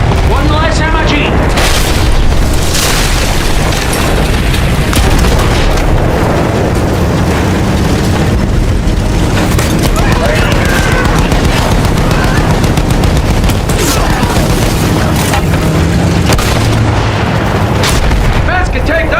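Battlefield 1 combat rages with booming artillery explosions and bursts of machine-gun and rifle fire, loud and continuous with no letup, while shouted voices break through the din.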